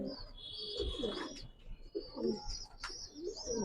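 Racing pigeons coo in a close, steady series of soft throaty calls, with some higher chirps from other birds mixed in.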